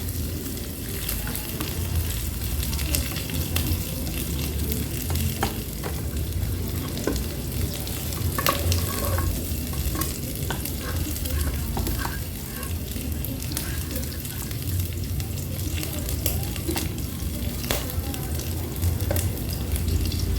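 Steady, crackling sizzle of food being stir-fried in a hot Kadonio multipurpose pan, with occasional scraping clinks, continuous and close throughout.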